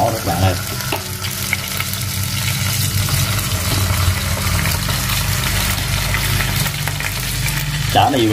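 Climbing perch fish fry in hot oil with a loud, continuous sizzle and scattered sharp pops, close up, while voices speak now and then.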